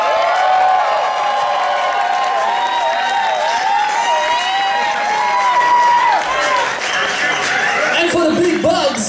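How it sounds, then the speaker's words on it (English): A crowd cheers and shouts at a European street-dance battle in Fribourg, United Styles Europe top-16 round, loud and sustained with whoops and voices over background music for about nine seconds. "make some noise for Fribourg"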